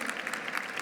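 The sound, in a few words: audience applause for panelists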